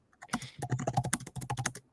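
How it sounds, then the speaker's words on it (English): Rapid, uneven clatter of fast typing on a computer keyboard during a podcast recording, dense close keystrokes in quick bursts with brief pauses and no talking. "Oh, I'm typing so fast."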